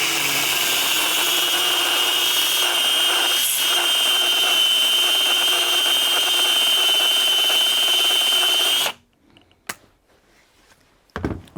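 A Ryobi R18PF cordless file sander with an 80-grit belt on high speed grinds into scrap wood with a steady, loud, high whining buzz for about nine seconds, then cuts off abruptly, followed by a few faint clicks.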